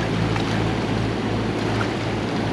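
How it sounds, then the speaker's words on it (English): Rushing river rapids and a waterfall, a loud steady roar of churning water with no breaks, heard close by and alone. "And this is the other side, which is the falls."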